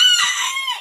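A rooster offered for sale in Asaka, Andijon, gives one brief, loud crow close to the microphone.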